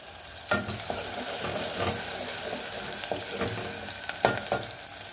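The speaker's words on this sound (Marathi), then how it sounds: "आता पाणी आलंय ना, तर भांडे धुवून घ्यायचं चाललंय" Steady running tap water with occasional clinks and clatters of dishes being washed and handled, fairly close, no talking.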